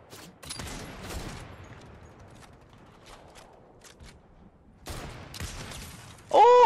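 Several sharp sniper rifle gunshot cracks in the video game Fortnite, with echoing tails, scattered across the scene, ending in a louder burst of synthetic electronic noise.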